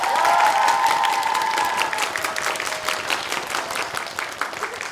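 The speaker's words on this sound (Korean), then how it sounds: "이 자리를 빛낼 선수들에게 여러분 응원의 박수를 부탁드립니다." Crowd applause for the players at a League of Legends esports final in Korea, loud sustained clapping with some cheering, joined early by a held musical tone that fades as the clapping continues.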